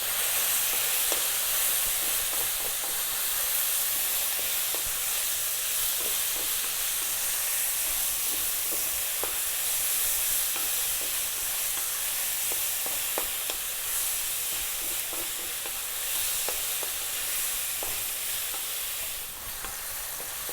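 Pork fried rice with garlic and black pepper sizzles and crackles steadily in a pan over high heat, with occasional scraping stirs cutting through the continuous frying hiss.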